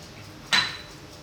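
A single knife chop through a big block of mozzarella cheese on a chopping board, one sharp close thud-click with a short ringing tail, otherwise quiet.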